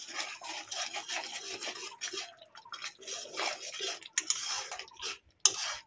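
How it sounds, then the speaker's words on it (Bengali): A spice masala with Kashmiri red chilli powder is stirred and fried in oil in a pan, giving a soft sizzle with repeated scraping strokes of a spatula. Faint and close, with a sharp clack near the end. "দিয়ে আবার ভালো করে মশলাটাকে আবারও কষিয়ে নেব তেল ছাড়া পর্যন্ত"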